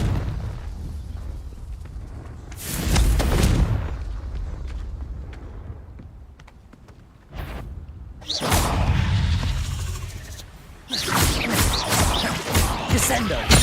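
Repeated fiery blasting-spell explosions in Hogwarts Legacy, a few loud broadband bursts with crackling tails spaced across the stretch, amid game noise.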